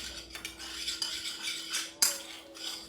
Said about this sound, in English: You're going to take a couple of spoonfuls of your broth and add it to your roux and stir it up.